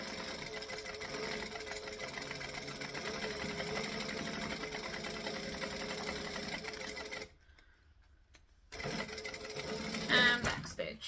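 Sewing machine stitching fabric for a Sincerely Jen Phoebe project, a steady mechanical whir with rapid needle clatter that briefly stops and then restarts at a moderate, close level.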